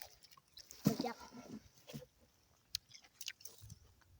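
Someone chews and bites into juicy melon close to the microphone, giving a few soft, wet crunches and squishes in quiet surroundings.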